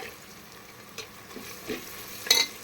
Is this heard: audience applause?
no